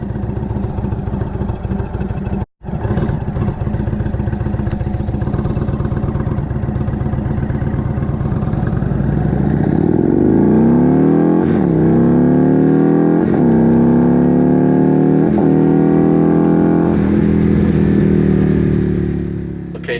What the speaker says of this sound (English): we'll be accelerating very aggressively, and you can hear the sounds of the engine pretty clearly